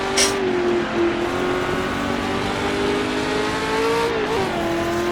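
A Ferrari 365 race car's engine drones steadily in a Daytona 24 Hours 1966 sportscar racing game, a sustained loud tone with a brief rev swell near the end and continuous running noise throughout.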